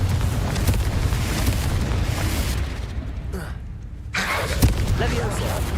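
Repeated Confringo explosive spell blasts in Hogwarts Legacy thunder with heavy booms, briefly cutting out mid-clip before resuming loudly, while a person talks over the game audio.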